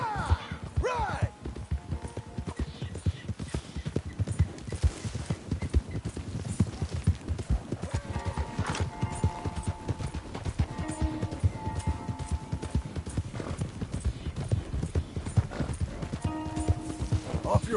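Horses galloping in the video game Red Dead Redemption 2, a dense, rapid clip-clop of hooves running steadily throughout, with game music and characters' voices mixed over it.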